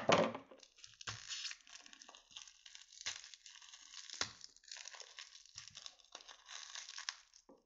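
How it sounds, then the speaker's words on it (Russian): Scissors snip and crinkle through a plastic packet, with soft irregular cuts and rustling crackles, quiet and close, no talking. "лучше ножницами надрежу, я боюсь испортить то,"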